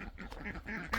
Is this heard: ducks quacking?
yes